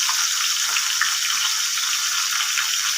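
A fish head fries with green chilies and onion in hot oil, giving a steady, dense, close sizzle that holds evenly throughout with no talking.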